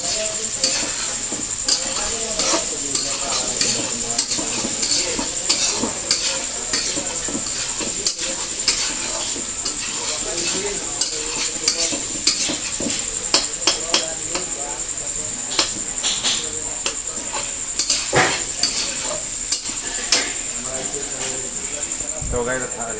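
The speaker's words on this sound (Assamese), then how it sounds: "আৰু এবাৰ ভাজি বনাই আছোঁ" Vegetable bhaji fries in a pan with a constant bright sizzle, punctuated by frequent scraping and clinking of a stirring utensil, while a person talks over it.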